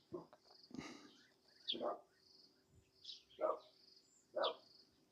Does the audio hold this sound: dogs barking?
yes